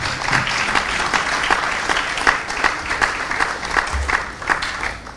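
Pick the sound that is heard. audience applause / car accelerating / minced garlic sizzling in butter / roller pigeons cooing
audience applause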